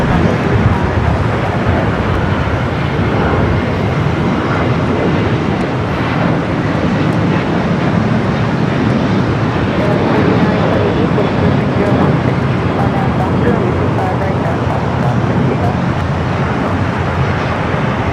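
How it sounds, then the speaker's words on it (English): An Airbus A320 jet airliner at LAX roars steadily at close range, a dense, loud broadband engine rush that holds for the whole stretch without fading. "Guadalajara, flight 1716, it's an A320."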